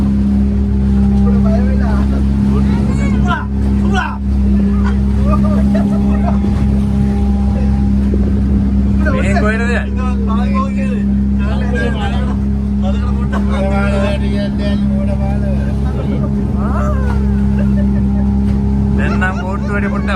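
A motorboat pushes through a strong water current near Negombo, Sri Lanka, its engine a loud, constant low drone throughout while people talk over it.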